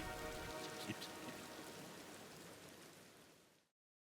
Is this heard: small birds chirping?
no